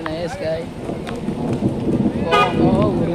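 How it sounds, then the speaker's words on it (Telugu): Heavy rain pours outside at a hillside temple with flooded steps, a continuous loud wash of falling water heard beneath someone talking throughout. "ఇప్పుడు వర్షం బయట గట్టి పడుతుంది."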